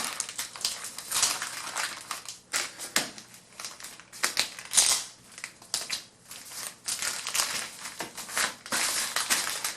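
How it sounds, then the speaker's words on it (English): Duct tape is pulled and pressed around a fitness sandbag filler bag, making close crinkling, tearing and crunching bursts that rise and fall in an irregular rhythm, with no talking. "you take your duct tape, get that held on there"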